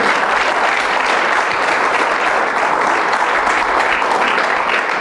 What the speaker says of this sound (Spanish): denle un aplauso a la gloria de Dios